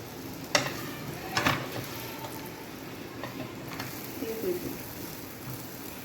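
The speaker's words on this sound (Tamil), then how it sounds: "இந்த பக்கமும் எடுத்து திருப்பிக்கோங்க. பாருங்கள், நல்லா ஊற்றி வதக்கிக்கோங்க." Sweet homemade chapati cooks in oil on a pan with a faint, quiet sizzle. A few sharp clacks come as it is turned.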